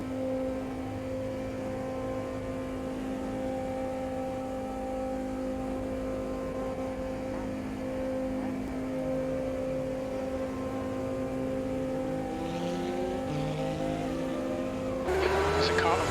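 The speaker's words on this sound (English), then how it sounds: "There's a car approaching." Race cars drone in the sim racing game Automobilista 2 at Daytona, with a McLaren F1 MP4/12 engine holding a steady pitch and another car closing in near the end, under a person talking.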